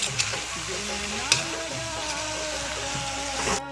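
Goat meat sizzles steadily in a hot pan, a constant crackling fry with a few sharper pops and clicks, no voices.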